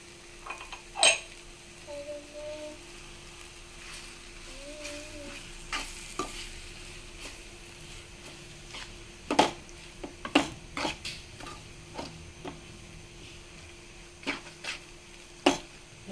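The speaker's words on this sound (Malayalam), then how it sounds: "പച്ചമണം മാറുന്നിടം വരെ നമുക്ക് ഇളക്കിയെടുക്കാം" Beef piralan is stirred with chili in a pan, with intermittent scrapes and clinks of a spoon against metal over a faint, steady sizzle, and no talking.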